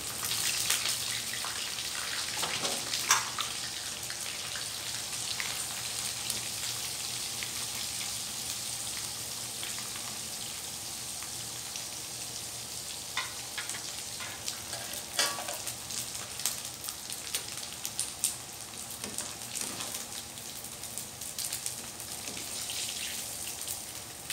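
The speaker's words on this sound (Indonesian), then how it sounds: "Sekarang aku goreng terinya sampai kering." Anchovies (teri) fry in hot oil in a home kitchen until dry, giving a steady, dense sizzle with constant crackling and occasional sharper pops and stirring scrapes, close up and continuous with no talking.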